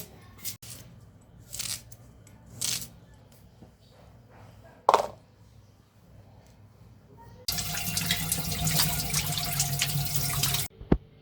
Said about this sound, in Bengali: তো আমি মিষ্টি কুমড়াগুলো কেটে বেছে ধুয়ে রাখছি, এই যে সুন্দর করে ধুয়ে নিছি।